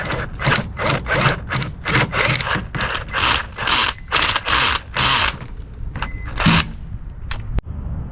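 Rapid, rhythmic bursts of a large drill bit chewing through a stern navigation light after a pilot hole, roughly a dozen loud pulses, then a few scattered clicks and a final sharp knock.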